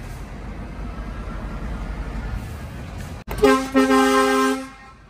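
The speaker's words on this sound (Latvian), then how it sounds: "Mums gan skaļs tauris," A loud, deep truck horn blasts at a truck meet in Engurē, Latvia, cutting in after a steady engine rumble, with a brief break and then a sustained second blast that fades out.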